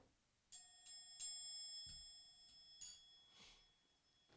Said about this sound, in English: Ring the bell on this.